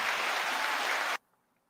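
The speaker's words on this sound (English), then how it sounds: "Let's get a round of applause for that." A burst of dense audience applause during a livestreamed reaction show, steady and full for about a second before stopping abruptly into near silence.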